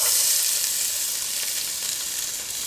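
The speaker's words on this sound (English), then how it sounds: "So the first thing we're going to do is we're going to add our onions." Onions hit a hot pan and sizzle in a loud, dense hiss that holds steady and fades slightly over a couple of seconds, up close with no voices.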